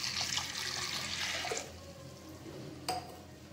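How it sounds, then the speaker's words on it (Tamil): A stream of water pours and splashes into a pot of lentils for sambar, stopping after about a second and a half, followed by a quiet clink. "ரெண்டரை கப் தண்ணி சேர்த்துட்டேன்."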